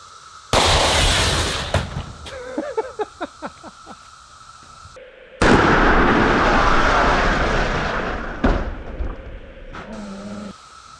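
A Smith & Wesson Shield Plus pistol fires outdoors, giving two loud, sharp blasts several seconds apart with long decaying rumbles, plus smaller clicks and rattles between them.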